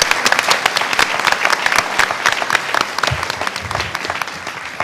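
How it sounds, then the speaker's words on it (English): An audience at a school district board meeting applauds steadily in a sustained round of dense clapping, loud and close, honoring a retiring member's years of service. "If I can have one more round of applause for all his years of service and dedication to this district."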